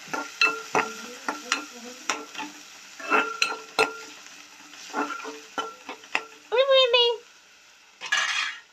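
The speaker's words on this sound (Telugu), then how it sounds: "ఇలా గరిట పట్టుకొని అలా కలపాలన్నమాట" A ladle stirs cucumber curry in a metal pot, giving a close series of bright clanks and scrapes in an uneven rhythm, with a brief rattling run and a final rough scrape, no talk.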